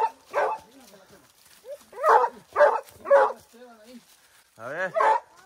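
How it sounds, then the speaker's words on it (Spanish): Hunting dogs bark in short bursts during a wild boar hunt in the Mexican mountains, with yips and whines between the barks and people talking nearby. "Ahí están los perros."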